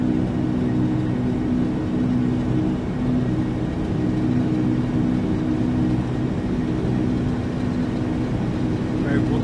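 An L-1011 TriStar airliner rolls for takeoff in the Flight Simulator X video game, giving a steady, loud engine whir and rumble that continues without a break.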